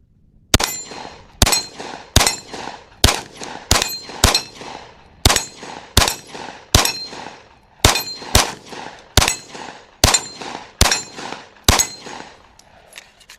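Ruger RXM pistol firing a string of about sixteen sharp, loud gunshots at a steady, slightly uneven pace, each crack followed by a short ringing decay, with no talking between shots.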